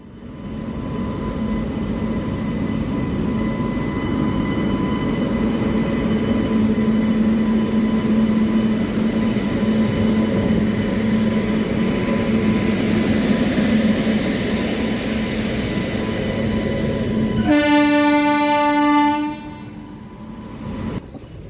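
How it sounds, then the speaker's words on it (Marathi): A Dadar–Satara passenger train rumbles steadily past at close range for a long stretch after reaching Pandharpur, then a loud horn blares near the end as the noise fades. "आजचा आपला कोच एस फोर जो की आत्ताच आपल्या समोरून गेलेला आहे"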